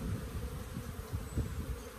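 A dense, steady drone of many honey bees buzzing together at close range, a low humming swarm that swells slightly without pause.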